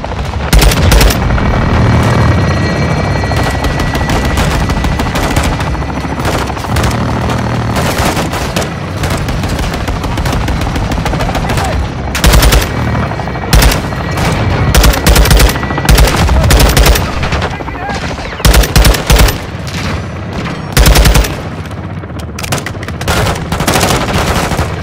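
A helicopter gun run in Call of Duty Modern Warfare 2 (2022) unleashes long, loud bursts of machine-gun fire in repeated volleys, with sharp booming impacts punctuating the sustained rattle.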